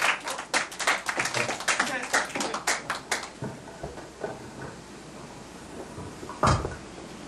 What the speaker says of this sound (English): A big round of applause for Jose Rizal.